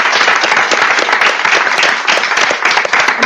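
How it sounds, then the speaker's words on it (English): An audience at a talks event breaks into loud, sustained applause, dense clapping from a roomful of people lasting throughout. "I think a round of applause for the speakers for fielding the questions."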